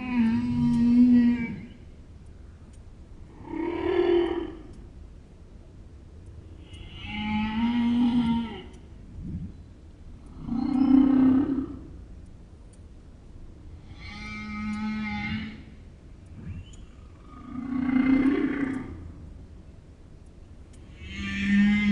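Whales call in their feeding grounds: a run of about seven long, moaning, tonal vocalizations spaced a few seconds apart over a low background hum, with no talking.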